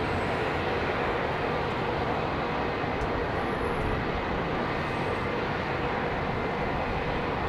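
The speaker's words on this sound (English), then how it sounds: "This is the plane I flew back on from Malaga." Airliner at London Heathrow Airport, a steady, loud broadband roar of jet engines holding constant throughout with no voices.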